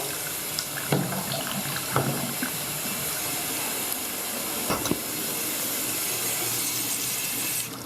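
Water runs steadily from a tap, a constant hissing stream that continues throughout, with a few faint knocks near the start and middle.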